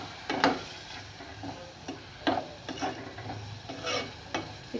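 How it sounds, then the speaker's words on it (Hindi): Spices roasting in a pan produce a soft, low sizzle punctuated by a series of spoon scrapes and light clinks against the pan, spaced irregularly and fairly close. "और ये जो मसाले हैं सारे हम इसको अच्छी तरह भून लेंगे।"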